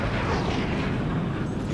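Heavy weapons fire in a battle video game, including a 20 mm cannon and plasma shots, forming a dense, loud, continuous rumble of blasts and booms with no clear gaps.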